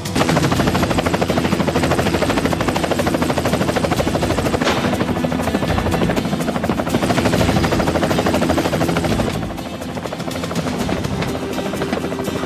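A helicopter circling a rooftop helipad in a 1995 TV drama, its loud, steady rotor thrum filling the scene throughout and easing slightly near the end, with gunfire-like bursts mixed into the continuous roar.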